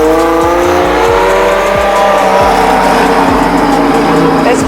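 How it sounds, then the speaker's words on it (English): Twin-turbo Porsche 996 911 accelerating hard, engine pulling through rising gears with loud turbo whine climbing steadily, up close and sustained, with rhythmic thumps of road joints underneath. "Not one, but two turbos are screaming their little heads off."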